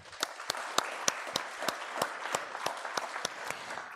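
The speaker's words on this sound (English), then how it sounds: "Let's give everyone a round of applause." A school awards ceremony audience claps, with a dense spread of applause cut through by sharp, regularly spaced loud claps close by, continuing throughout.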